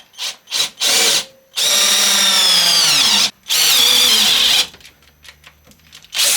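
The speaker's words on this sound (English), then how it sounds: "We'll drill in, get our plug" A power drill fitted with a plug cutter whines loudly in two sustained bursts, its pitch shifting as the bit cuts into a scrap piece of wood, with short clicks and pauses between runs.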